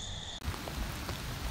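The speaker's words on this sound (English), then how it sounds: "it's the next day and it's raining" Rain falls on a hillside cattle pasture, a dense, steady patter of drops starting after a brief cut, close and continuous, with no voices.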